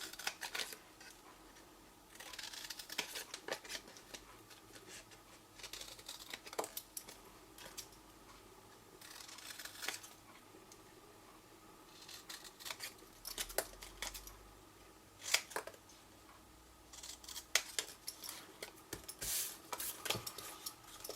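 Scissors cut cardstock for a small no-glue ring box, with repeated close, quiet snips and crisp paper rustles spread irregularly over a longer stretch of craft work.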